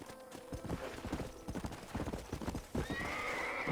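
Horses in the Red Dead Redemption video game, with rapid clip-clopping hooves and a loud whinny near the end, set against a low background rumble.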